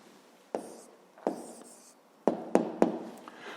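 An answer to a fifth-grade math exercise is written out by hand: a handful of quick scratchy pen strokes and light taps, close and fairly quiet, with short pauses between them.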